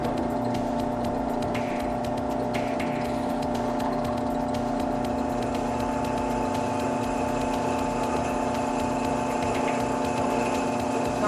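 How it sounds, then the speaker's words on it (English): A handheld drill bores slowly through metal held with vice grips against wood, a steady whining motor hum with a grinding buzz underneath that runs continuously at an even, moderate loudness, with no voices. "Now since we're drilling through metal,"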